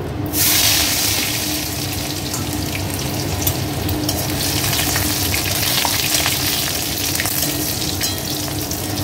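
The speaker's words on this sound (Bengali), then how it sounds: "হ্যাঁ দেখো রসুনটা আমার ভাজা হয়ে এসেছে" Garlic, with cumin and dried chilli, sizzling steadily in hot oil in a home kitchen pan, a dense continuous frying crackle at close range with no talk.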